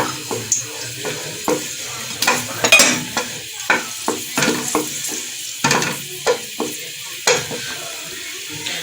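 Bay leaves and red chilies sauté in hot oil with a continuous sizzle, punctuated by repeated scraping stirs of a spoon in the pan, close up with no voices.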